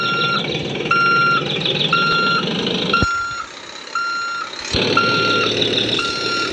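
A truck backs up with its reversing alarm beeping in a regular rhythm, about once a second, over a loud nearby engine rumble that drops off briefly midway and then returns.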